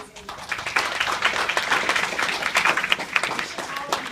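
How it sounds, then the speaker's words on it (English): Students at a university reception applaud themselves with dense, steady clapping from a sizeable crowd, fairly loud throughout with a few voices mixed in. "Go ahead and give yourselves a round of applause."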